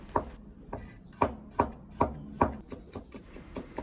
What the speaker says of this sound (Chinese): 首先把大蒜切成薄片